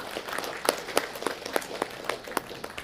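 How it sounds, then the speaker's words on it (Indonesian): Scattered applause for a minister at a parliamentary commission hearing, a thin run of separate hand claps spread evenly across the room at moderate volume, with no voices over it. "kita berikan aplaus dulu"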